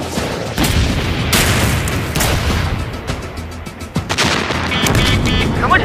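Tank cannons fire in a film battle scene: a run of loud, booming blasts and sharp gunfire reports crowding close together, dense and continuous with no speech over it.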